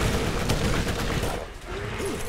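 Rapid gunfire from the video game Borderlands crackles in a dense, loud burst aimed at an enemy soldier, then breaks off abruptly partway through.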